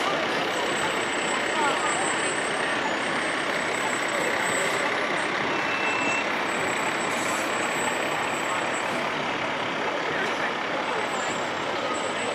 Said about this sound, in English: Truck number 47 from Bennington Rural Volunteer Fire Department.